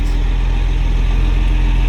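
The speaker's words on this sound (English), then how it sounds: "the truck is really loud" A loud truck engine runs steadily close by at a worksite during a DIY post-and-beam timber frame build, its low rumble constant and unbroken with no talk over it.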